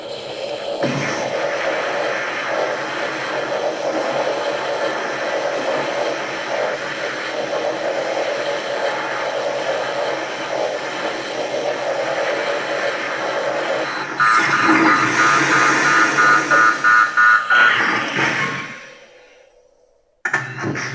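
A Haslab Ghostbusters proton pack fitted with Ninja Tunes sound fires continuously in a loud, close, buzzing electronic blast. It rises into a harsher, beeping overheat warning and then winds down to silence.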